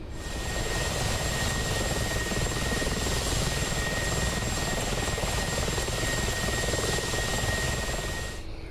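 A Mi-24P Hind attack helicopter cruises in the DCS flight simulator over the Dubai region of the Persian Gulf, its rotor and turbine drone steady and loud throughout with a constant high whine, no talk.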